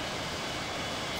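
A plane's engine in a Roblox game, night flight over the ocean, drones as a steady broadband roar that holds evenly throughout, with no talk over it.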